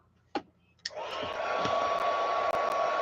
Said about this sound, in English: Let's give it a blow dry.